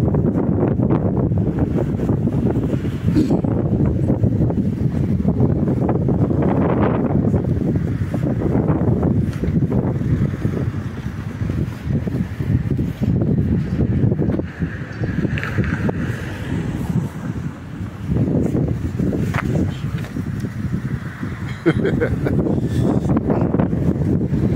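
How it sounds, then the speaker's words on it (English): Strong gusty wind buffets the microphone throughout a walk on Biscot Road in Luton, UK, a loud, continuous low roar that swells and eases in waves with no speech. "Very, very windy out here today"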